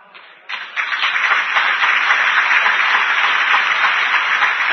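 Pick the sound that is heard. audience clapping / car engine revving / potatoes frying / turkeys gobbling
audience clapping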